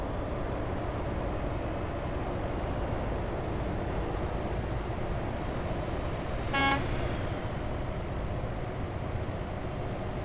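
A truck horn in Euro Truck Simulator 2 blasts once, a short sharp toot about two-thirds through, over a steady loud engine and road drone with no talking.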